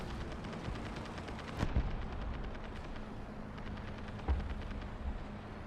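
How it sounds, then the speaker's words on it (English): Gunfire in the War Thunder tank battle game during a Panzer III N match: a few sharp shots and booming bursts, the loudest two spaced a few seconds apart, over a constant rumbling battlefield background. "Somebody is shooting after the M10."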